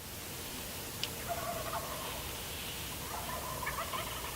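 Faint, distant gobbling of wild turkeys in Nebraska in spring, a couple of short rattling bursts against a hissy outdoor background.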